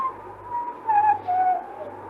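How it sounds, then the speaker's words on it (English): A few soft, sustained whistled notes, slightly wavering in pitch, heard faintly against a quiet, hollow background. "And then the sound of whistling, faint but recognizable."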